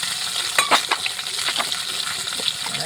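Potato pieces frying in oil with turmeric and salt, a close, steady sizzle broken by a few quick scrapes and clinks of a utensil against the pan.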